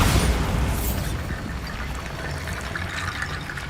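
A Bombarda blasting spell goes off in Hogwarts Legacy as a loud rumbling boom with a bright crackling burst at the start, then sustained crumbling debris noise that fades slowly.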